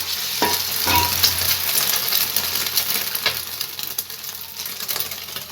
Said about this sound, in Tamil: இப்போ நம்ம செஞ்சு வச்ச இந்த மைதா மாவு இதை முட்டையில் இப்படி டிப் பண்ணிவிட்டு எண்ணெயில் வச்சுக்கலாம்.